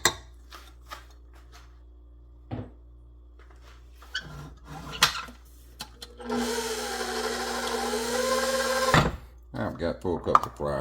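A stand mixer whirring steadily for several seconds as it blends flour and salt for dinner roll dough, with scattered knocks and handling noises around it and a voice talking before and after.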